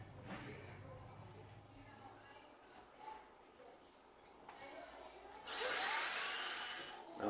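A power drill pre-drills holes while a homemade fishing rod pod is assembled, whining in brief bursts that end in a louder, sustained high drilling run. The drilling is close, with a voice heard in the workshop.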